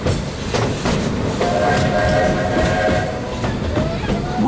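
The Walt Disney World Railroad train running along the tracks with a low rumbling roll and rhythmic clatter, a faint whistle-like tone sustained in the middle, loud and close, recorded aboard.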